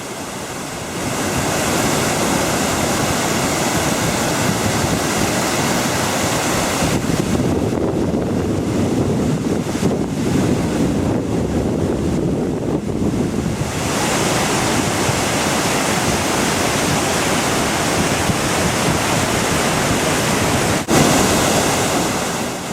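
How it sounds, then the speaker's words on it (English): A large waterfall in Brazil thunders with a continuous, dense roar heard up close at the edge, steady and loud throughout with a brief slightly softer stretch in the middle. "You can also look right over the edge, feel and hear the roar of the falls."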